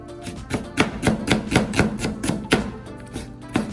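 A knife chops through an onion on a board in a quick, regular series of crisp cuts, about a dozen close, sharp strikes with no talk.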